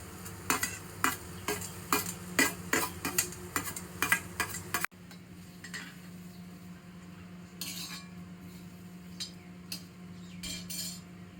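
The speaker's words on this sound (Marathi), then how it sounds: "कांदा एवढा भाजून झालेला आहे, त्याप्रमाणे खोबरं भाजून घेतोय." Grated coconut dry-roasts in a pan for a Malvani oyster curry, loud spoon scrapes and stirring strokes for several seconds, then a softer, quieter stretch of faint rustling and occasional taps.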